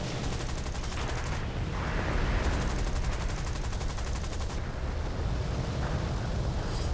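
Gunfire from the tank combat video game War Thunder, dense rapid bursts and booms layered over steady battle rumble, continuous and fairly loud, with no voice.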